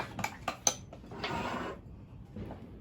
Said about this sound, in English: you just stir it